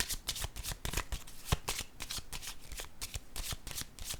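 Playing cards are shuffled and drawn, a rapid run of crisp riffles and flicks repeating close by and evenly for several seconds with no talk.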